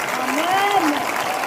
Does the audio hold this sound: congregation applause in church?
yes